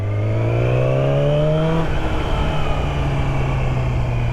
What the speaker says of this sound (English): get on a nice straight area of your parking lot and twist the throttle a little bit